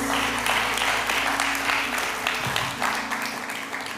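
Audience clapping at a Sunday celebration service, a brief moderate burst of scattered applause that gradually thins out, with a low hum underneath.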